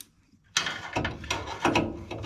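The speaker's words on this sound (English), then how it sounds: "I've got my cordless impactor." A cordless impact driver with a socket tightens bolts on a heater, giving short mechanical ratcheting bursts close up after a quiet start.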